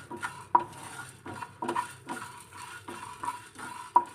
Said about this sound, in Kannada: ಇವಾಗ ನೋಡಿ ನಾನು ಇವನ್ನೆಲ್ಲ ಮಿಕ್ಸ್ ಮಾಡಿ ಹುರ್ಕೊಳ್ತೇನೆ ಎಣ್ಣೆ ಏನು ಹಾಕಲ್ಲ ಹಾಗೆ ಡ್ರೈ ಆಗಿ ಹುರ್ಕೊಳ್ತೇನೆ